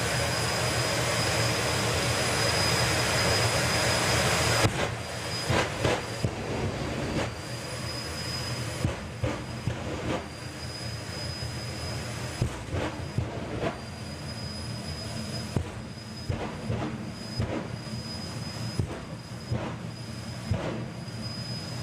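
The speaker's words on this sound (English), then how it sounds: "So the jet turbine gets wound up even further." A jet-turbine drag car powered by a Pratt & Whitney J60 turbine spools up at a drag-racing event, a loud, sustained roaring whine with a high steady tone and intermittent sharp bursts, close and continuous.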